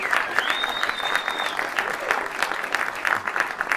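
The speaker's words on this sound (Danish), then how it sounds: "en ekstra tredobbelt klapsalve til Jeppe som den store Jeppe" An audience claps steadily through a historical outdoor play of Saint George and the Dragon at a 2016 festival, a dense continuous applause with a faint whistle-like tone early on.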